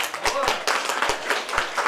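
A crowd at a birthday celebration claps for a mother in a short burst of uneven hand claps, with people talking over the clapping.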